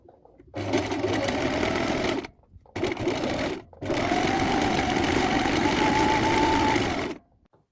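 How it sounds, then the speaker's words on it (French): Sewing machine running steady stretch stitch seams on cinnamon-colored trousers, three sustained bursts of whirring motor with brief pauses between, close and loud, no talking. "Et vous allez le coudre à l'aide d'un point extensif."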